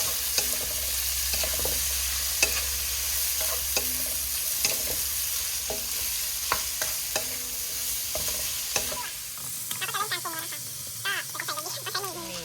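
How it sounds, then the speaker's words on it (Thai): Pork neck stir-fries with curry paste and sweet bamboo shoots in a pan, a loud continuous sizzle broken by frequent close scrapes and clacks of the spatula. "คลุกเขาให้เข้ากันนะคะคั่วให้เข้ากัน"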